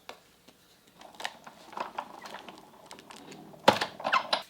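A Sizzix die-cutting press cranking paper scraps through an embossing folder, heard as faint irregular clicks and rattles that grow into a louder clattering burst near the end, with no talk.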